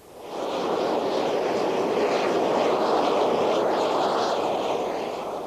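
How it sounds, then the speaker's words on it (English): A military training jet taxis with a steady, loud, broadband engine roar that swells in and holds, heard alone at close range. "Trevor Lewis is taxiing towards the moment he's been dreading"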